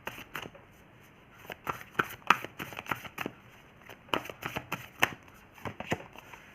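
A tarot deck being shuffled by hand in a series of quick riffling card bursts, each a sharp papery flutter, spaced irregularly across the stretch with short pauses, close and moderately loud with no talking.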